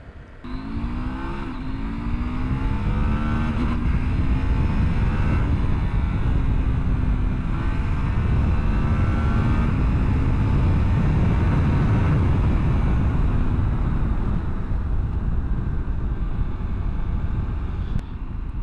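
Husqvarna Norden 901 Expedition motorcycle cruising on a highway, its engine droning steadily at speed with rising gear tones early on and constant loud wind rush throughout.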